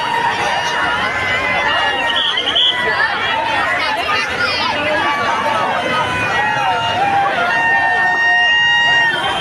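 Dense crowd hubbub surrounds a street Dahi Handi festival, many voices chattering and shouting at once, loud and close throughout with occasional higher calls rising above the babble.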